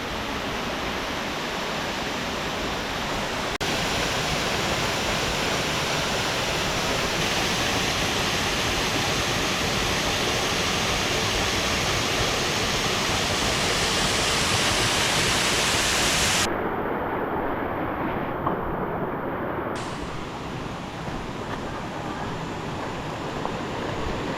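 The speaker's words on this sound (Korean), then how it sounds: "선녀 폭포네요, 선녀 폭포." Seonnyeo Falls on Hwangseoksan mountain in Hamyang: a steady, loud, full rush of falling water roars without pause, close by and with no voices over it.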